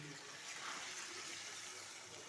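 Water pours briefly and quietly into a pan of simmering egg curry (dim kosha), a short, soft gushing splash with no talk.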